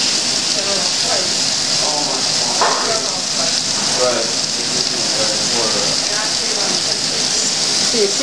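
Food searing in a pan at a holiday breakfast, with a loud, dense, continuous sizzle and crackle close by throughout.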